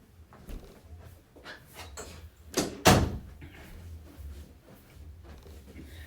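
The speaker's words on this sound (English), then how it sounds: "Let me close the door real quick" A door swings shut inside a home, a muffled bump followed by a sharper thud near the middle, with rustling and handling noise and soft household ambience around it.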